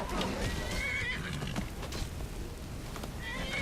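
A horse in the video game Skyrim whinnies close by, mixed with clip-clop hoofbeats and other game sounds, while a voice talks briefly over it.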